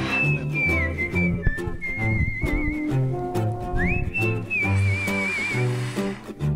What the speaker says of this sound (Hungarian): gyakorlatilag majdnem olyan, mint hogyha ilyen szűksávon keresztül szeretnél fütyülni